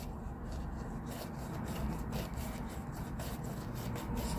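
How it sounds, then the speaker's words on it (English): Resin is scraped off the sides of a mixing cup, a soft, continuous rubbing and rasping close by, fairly quiet with faint rhythmic strokes. "I'm just scraping it all off the sides"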